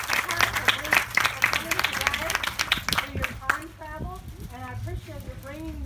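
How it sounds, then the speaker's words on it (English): A round of applause at a tea event greets an introduced guest, a crowd of hands clapping for about three seconds before fading into someone speaking over thinner scattered claps. "Give her a round of applause real quick."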